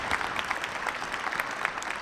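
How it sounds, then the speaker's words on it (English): Applause from a university convocation audience honoring a board chairman, a steady wash of many hands clapping at moderate volume throughout the short span, with no voices over it. "Let's give him another round of applause."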